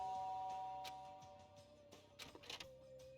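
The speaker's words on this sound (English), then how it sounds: "There's a doorbell next to the door. I guess I should use that." A doorbell chimes in the Danganronpa Trigger Happy Havoc video game, a faint tonal ding over soft background music followed by a few light clicks and taps.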